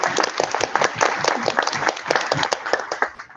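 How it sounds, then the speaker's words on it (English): Lively audience applause at a young writers' award celebration, with individual claps distinct and near, bursting unevenly and then tapering off toward the end. "So if we can give them a round of applause, they did a lot of hard work for us"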